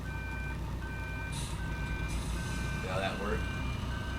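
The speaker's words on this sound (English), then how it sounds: "And now I can back up." Truck in the video game Everywhere USA sounding its reversing alarm: a regular series of evenly spaced beeps over a low engine rumble, with someone talking briefly partway through.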